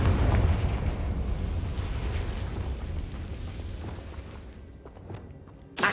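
A Confringo fire spell in the Hogwarts Legacy video game bursts into a loud, rumbling explosion that decays over several seconds, ending with a small sharp crack.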